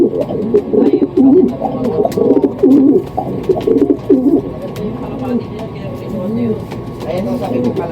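Pigeons coo repeatedly in low, throaty phrases, with a person talking over them for much of the time.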